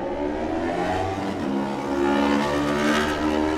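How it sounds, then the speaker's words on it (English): Racing motorcycle engine revving hard and pulling away from the start of a TT Supertwin race on the Isle of Man course, a loud, continuous rising roar with layered engine harmonics, no talk over it. "Stefano Bonetti always goes well in this class, the VAS engine racing pattern. He's away"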